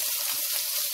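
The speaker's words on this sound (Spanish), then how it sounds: "Voy a dejar que mi salchicha se sofría por un momentito y saque esa grasita" Sausage frying in a pan with a little oil, a steady bright hiss and crackle of sizzling, close and continuous throughout.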